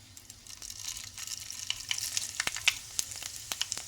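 Dried red chilies and seasoning seeds crackle in hot oil, a steady sizzle with scattered sharp pops and spits growing more frequent, close and fairly quiet with no talk.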